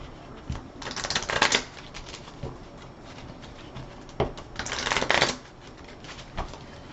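Playing cards from a Marvel Champions game are shuffled back into a deck, two close riffle-shuffle bursts separated by a pause, with light card taps and handling noises between them.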